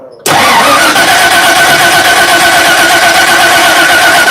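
GMT400 truck engine cranking and catching, starting abruptly after a quiet moment and then running loud and steady at close range.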